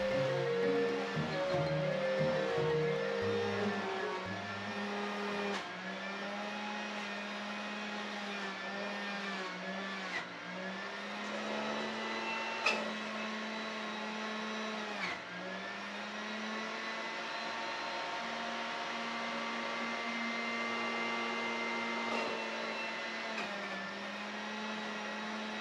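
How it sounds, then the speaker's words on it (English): A Breville Juice Fountain Cold juicer grinding a pineapple core, its motor whining steadily with pitch dipping and recovering as the fibrous chunk is pushed through, a close, loud, sustained drone broken by brief knocks. "This is the pineapple core. Don't throw this away. It juices perfectly."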